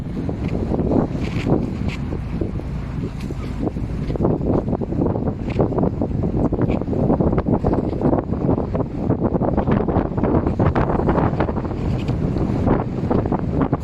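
Strong wind buffets the microphone near the Eiffel Tower in Paris, a loud continuous roar with gusting surges throughout.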